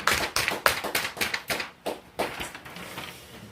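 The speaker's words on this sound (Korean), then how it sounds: "그분 앞에 영광의 박수," A church congregation applauds during a Palm Sunday service, with uneven bursts of hand clapping that thin out and fade toward the end.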